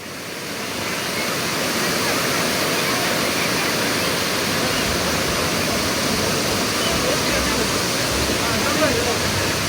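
Roadside waterfall at Amboli, a dense, loud and constant rush of falling water close by that stays steady for the whole stretch.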